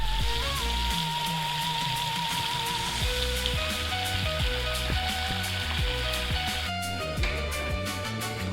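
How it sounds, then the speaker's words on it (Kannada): Rain falling steadily in the forest at Sakleshpur, a continuous hiss and patter of drops holding at an even level throughout, with a faint tonal background hum and no voices. "ರೈನ್ ಡ್ಯಾನ್ಸ್ ಆಡೋಣ ಅಂದರೆ ಮಳೆ ಬೇರೆ ಬರ್ತಿದೆ."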